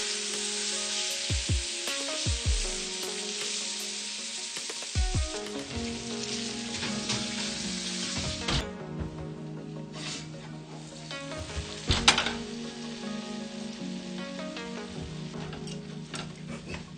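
Beef tenderloin sears in a hot pan with a steady broadband sizzle, interrupted by occasional clatter and stirring sounds, with the loudest crackle bursting briefly near the end.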